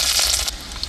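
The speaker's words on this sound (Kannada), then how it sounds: "ಇವಾಗ ಬೆಳ್ಳುಳ್ಳಿ ಹಾಕ್ಕೋತಾ ಇದ್ದೀನಿ." Garlic dropped into hot oil for a village-style pudina chicken, giving a loud, close, steady hiss and crackle with a few sharper pops and spatters toward the end.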